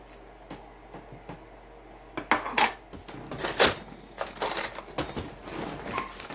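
A utensil clinks and scrapes against a dish while powdered beef gravy is stirred into food, with scattered sharp taps and scraping strokes, close and moderately loud, no talking.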